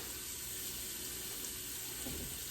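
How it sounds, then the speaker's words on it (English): Onion sautéing in olive oil in a soup pot, a steady soft sizzle with watery hiss running continuously and evenly throughout, close and fairly quiet, no talking. "We're gonna let that saute up for a minute"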